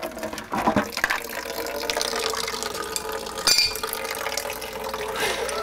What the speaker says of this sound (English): The running water show.